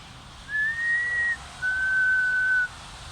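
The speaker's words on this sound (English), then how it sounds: "the whistle echoed in the night each hour" Two clear whistled notes in the night, each held about a second, the second slightly lower, standing out alone over a quiet background.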